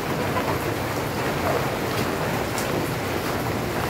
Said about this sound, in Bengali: বৃষ্টি বৃষ্টি আছে আজকে